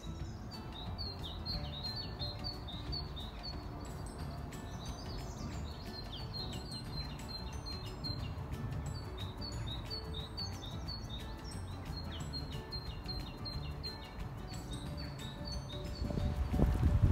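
Small birds chirp and twitter continuously over a low rustling background in woodland, several calls overlapping at moderate distance, with no talking.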